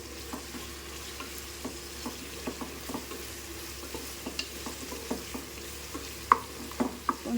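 Onion and green chilli frying in a pan with salt, a soft steady sizzle broken by repeated light scraping stirs, close up and without any voices.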